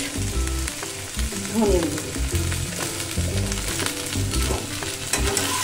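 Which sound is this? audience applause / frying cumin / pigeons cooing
frying cumin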